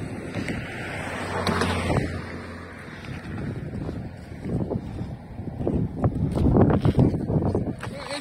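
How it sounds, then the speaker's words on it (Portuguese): Water falling and running along the São Francisco river transposition canal at Jati, Ceará, a steady broadband rush with wind buffeting the microphone and a voice speaking over it. "mas a água está caindo lá. Está indo água lá."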